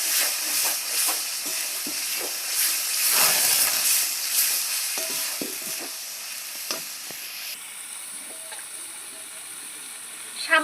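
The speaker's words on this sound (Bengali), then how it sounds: "সামান্য একটু হলুদ সামান্য একটু নুন সামান্য একটু মিষ্টি সব ভালো করে কষিয়ে নেব" Loud, continuous hiss and sizzle of ground pea pod paste stir-fried with green chillies, turmeric, salt and a little sugar over browned onions, with a spatula scraping and tapping the pan at irregular intervals, close and without talk.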